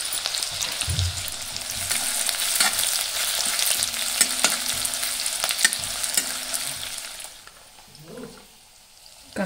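Onion and garlic frying loudly in a pan with a steady, close hiss and occasional stirring scrapes, easing off near the end.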